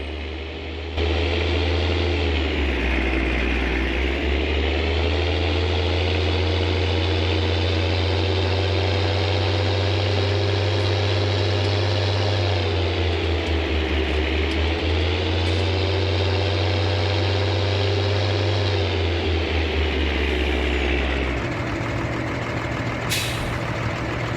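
A tractor engine idles steadily in Farming Simulator 19, a deep droning rumble with a low throb that dips and rises slightly in pitch, close and continuous, ending with a brief hiss like released air.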